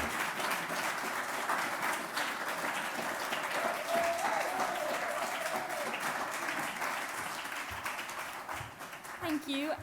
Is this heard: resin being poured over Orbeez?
no